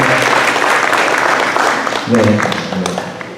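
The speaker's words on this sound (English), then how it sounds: "Let's give them now a big round of applause, please" Audience at a public tribunal hearing in a California community applauds, a steady wash of clapping that thins toward the end as voices and a short sung or spoken phrase come through.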